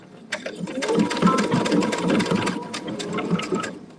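A sewing machine runs steadily as it freehand-stitches down the raw edge of a fabric appliqué using light gray thread, a dense rapid mechanical chatter that holds close and continuous for several seconds.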